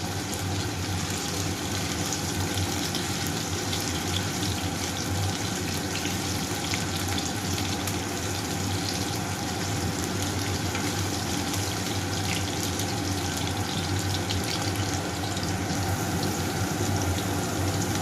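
Potatoes fry with turmeric in a pan, giving a steady, even sizzle that holds a constant level throughout with no talk.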